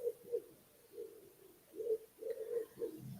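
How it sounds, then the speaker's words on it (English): A pigeon cooing close by in soft, repeated low calls, a few separate phrases over a quiet background. "as we are serenaded by the pigeon, a beautiful pigeon"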